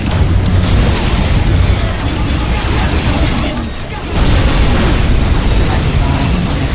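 Fire Prism cannon blasts from the Eldar in Dawn of War: Soulstorm rumble loudly, a sustained string of heavy explosions that dips briefly near the middle before surging back.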